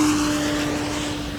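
A Hangar 9 P-47 Thunderbolt RC fighter plane flies overhead outdoors, its electric motor giving a steady, loud, sustained hum with a constant tone and wind rushing throughout, and no one talking.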